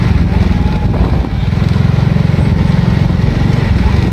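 A 2015 Suzuki Satria 115 Young Star sport motorcycle being ridden gives a loud, steady, close engine drone with a fast, even pulsing throb and a brief dip partway through.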